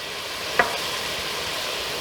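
Ground beef browns in a pan for shepherd's pie, a steady close sizzle broken once by a single sharp clink, no voices.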